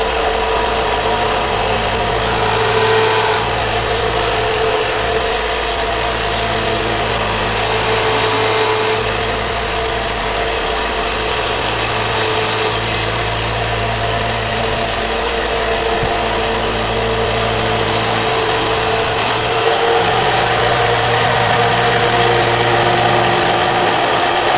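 Belt sander running steadily while a blade is sharpened on its belt, a continuous close motor drone with a slight rhythmic pulsing and no talk.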